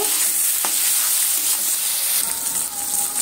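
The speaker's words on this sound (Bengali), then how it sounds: "নুন দিয়ে এইভাবে টমেটোকে প্রথমে ভেজে নেব।" Tomato with salt sizzles and fries steadily in a pan, a close, loud, continuous crackle with light stirring scrapes, no voices.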